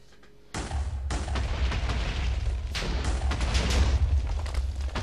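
A column of blocks blown apart in a modded Minecraft skyblock world, a loud sudden blast followed by a sustained rumbling roar with repeated crackling bursts, close and continuous, no voices.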